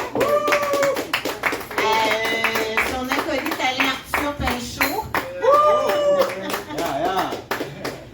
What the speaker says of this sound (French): Je voudrais qu'on donne une bonne main d'applaudissement à celui qui a initié ça